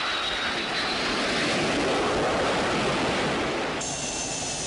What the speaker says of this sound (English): The Corps fields high-performance jet aircraft, such as the FA-18 Hornet Strike Fighter.